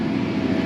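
A tractor engine pulling an 18-foot ripper through a field hums at revved-up RPM, a loud, steady low drone held constant for the whole short stretch.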